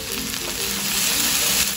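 Cabbage and other vegetables for Japanese-style mie goreng sizzle and fry in hot oil, a loud, steady crackling hiss close up, with no talking.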